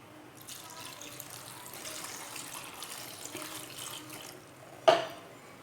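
Okra is washed under a running kitchen tap, a soft, steady trickle and splash close by, ending with a sharp clatter just before the close.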